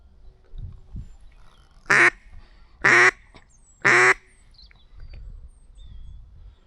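Three loud, close duck quacks come in an even rhythm during a duck hunt, with quiet ground noise and faint low sounds between them.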